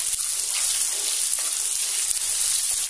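Small onions sautéing in a pan for vatha kulambu, a steady close hiss and sizzle with faint stirring scrapes throughout.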